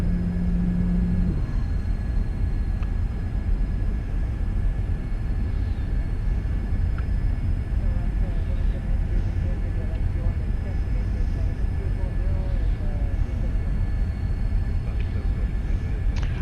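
A Citation II jet airplane in the X-Plane 11 flight simulator gives a steady, even cockpit drone that holds unchanged throughout, with a faint tonal hum above it.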